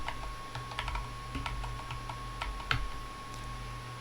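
Computer keyboard keys tapped while entering a BastilleBSD command, a run of quick, close, light clicks with brief pauses, steady low hum underneath, no voices.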